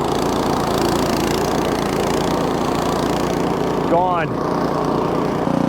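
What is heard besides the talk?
Craftsman snowblower engine clearing wet heavy snow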